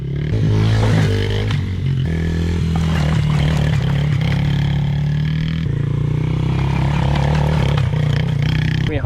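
Small petrol kids' dirt bike engine, PeeWee 50 or TTR 50, revving loudly and close by with uneven, rising and falling throttle bursts that last throughout, with a few voices around it.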